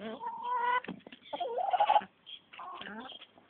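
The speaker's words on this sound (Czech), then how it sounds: "Tady máme ty slepičky." Hens in a backyard chicken coop cluck and squawk in short, close bursts separated by brief pauses, the calls clear against an otherwise quiet barn.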